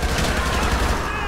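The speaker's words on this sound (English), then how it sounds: "Are they shooting at each other?" Rapid automatic gunfire in GTA 5 during a police patrol, a dense burst of shots that runs continuously through the moment with a faint voice underneath.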